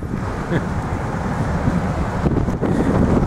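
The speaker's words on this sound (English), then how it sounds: "because it is windy and it's gonna get a hell of a lot windier tonight" Strong outdoor wind buffets the microphone in a steady, loud broadband rush for the whole stretch, with gusty swells and no clear voices.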